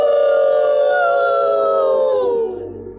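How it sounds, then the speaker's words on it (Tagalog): Wild forest dogs howl loudly in a long, sustained chorus of layered tones that slowly glide downward and fade out near the end, with no voices present. "maririnig ang malakas na ungol ng mga asong gubat"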